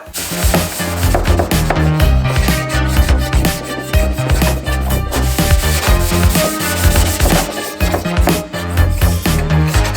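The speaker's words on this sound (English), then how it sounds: "You instantly find stuff that was covered up, so we'll keep scuffing away." Scuff-sanding a plastic fairing from a Harley-Davidson FXR, a loud continuous rapid rubbing and scratching close up, steady throughout.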